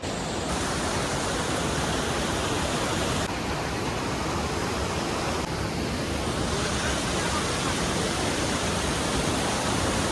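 A mountain waterfall near Manali pours in a continuous, full rushing roar, loud and close, with no break in the steady wash of falling water.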